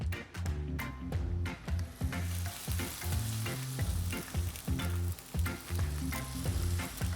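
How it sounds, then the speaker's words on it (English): Steady sizzling and crackling of a Korean seafood pancake in a hot pan, fairly quiet, with music playing loudly over it. "Oh, that is a nice sizzle."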